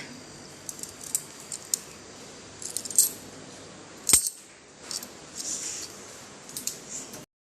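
House keys are picked up and handled indoors, giving a few sharp metallic jingles and clicks at irregular intervals, close and fairly quiet, with one louder clink in the middle and no talk.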